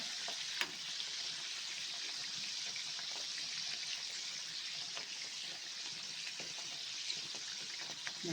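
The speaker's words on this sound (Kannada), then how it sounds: "ಕೆಂಬಣ್ಣ ಬರೋವರೆಗೂ ಫ್ರೈ ಮಾಡ್ಕೊಳ್ತೀನಿ" Karavarki snacks deep-frying in hot oil, turned until reddish-brown, giving a steady dense sizzle with small bubbling crackles throughout, close and continuous with no talking.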